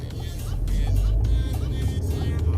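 A manual-transmission car pulls away from a stop on a road, its engine note rising steadily and loud from inside the cabin, a continuous low rumble with no talk in the clip.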